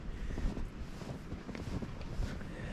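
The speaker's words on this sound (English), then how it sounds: "So despite the wind blowing so much," Strong wind gusts across open snowy ground, a steady rough rumble with microphone buffeting that swells and eases, close and moderately loud with no voices.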